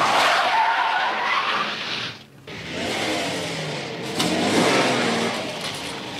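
A car skids at speed, tyres screeching loudly across most of the stretch with a short lull midway, engine noise underneath and no talk.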